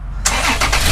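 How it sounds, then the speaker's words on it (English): A fifth-generation Toyota 4Runner engine starts up nearby after its fluid is topped off: a loud crank and catch, then a steady close idle. "We started up the engine"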